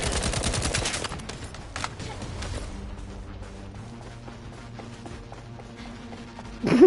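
Rapid gunfire and explosions from The First Descendant video game, a dense burst of shots up front settling into scattered bangs and rumbling impacts, ending with a sudden loud hit.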